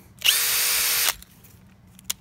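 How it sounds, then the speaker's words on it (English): A Makita hammer drill set to fast speed whirs in one steady, loud high-pitched burst lasting under a second, then stops, followed by a faint click. "Let's try the hammer drill"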